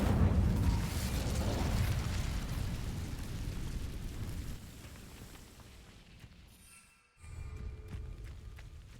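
A fire spell cast in Hogwarts Legacy: a loud, roaring burst of flame that swells at once and slowly fades over several seconds, dropping out briefly before a low rumble returns.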